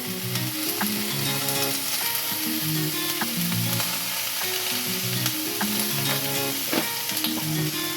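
A fish roe and vegetable sour dish with turmeric sizzles steadily in a hot pan while a spoon stirs it, with irregular scraping clicks over continuous close frying.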